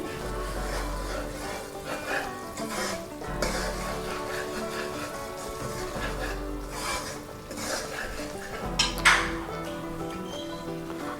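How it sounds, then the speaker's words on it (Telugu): Dry coconut powder and poha powder stirred together in a pan for a sweet modak filling, giving repeated rasping scrapes in a slow, steady rhythm at close range. "తర్వాత పోహా పౌడర్, అటుకుల పౌడర్ అది వేసేసి మిక్స్ చేసేసుకుందాము"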